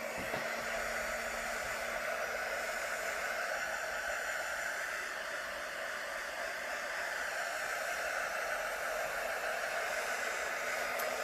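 Steady, fairly faint blowing hiss of a heat gun or hair dryer warming a metallic paint pour, continuous and unbroken with no talk.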